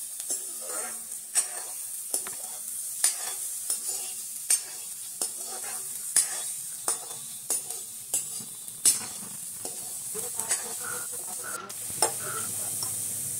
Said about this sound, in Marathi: बघा कांदा फ्राय व्हायला लागला.